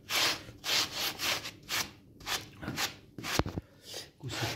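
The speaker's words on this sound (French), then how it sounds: "On frotte comme ça. On frotte là." Repeated back-and-forth rubbing strokes on a surface, close and fairly loud, in a steady rhythm of about eight passes with no talking.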